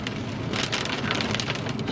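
Rain falls steadily in a hailstorm-laden shower, a close, even hiss of drops pattering on surfaces with no voices.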